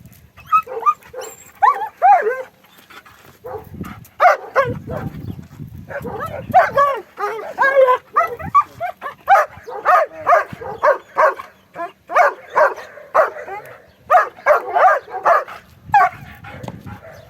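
A dog barks repeatedly in short bursts during guard-dog training, the barks close and loud, mixed with a voice giving commands.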